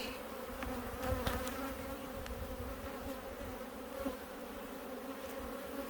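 A strong colony of Carniolan honey bees buzzing inside a hive, a dense continuous drone close by with the odd louder individual bee passing, no voices.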